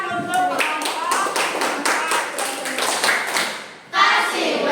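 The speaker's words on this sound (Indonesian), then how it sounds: "Tepuk tangan untuk kelompok" A classroom audience claps for a student group after their presentation, a lively burst of hand claps with taps and thuds and voices mixed in, growing louder near the end.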